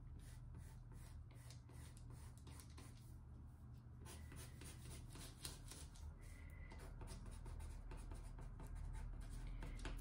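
A pencil tracing over a line on a paper sewing pattern, giving a steady faint scratchy rubbing that lasts throughout, very quiet and close, with no talk.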